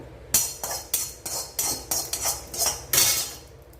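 Spices such as cardamom and cloves dry-roasting in a pan while being stirred, heard as a series of close, sharp metallic scrapes and clinks in an uneven rhythm.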